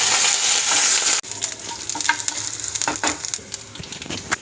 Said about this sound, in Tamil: கருவேப்பிலை, சீரகம், வதக்கிக்கோங்க லைட்டாக.